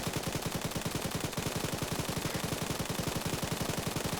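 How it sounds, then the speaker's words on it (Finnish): Sustained automatic gunfire in the ArmA video game, a fast, even rattle of shots continuing without pause, loud and close, with no talk over it. "Siis mä ammun sen vihollisen pois tuolta, kun se on tossa vittu metrin päässä."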